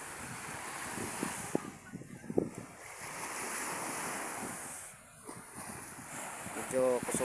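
Sea surf washes in a continuous hiss at a beach, heavily buffeted by wind rumbling on the microphone, with faint voices underneath.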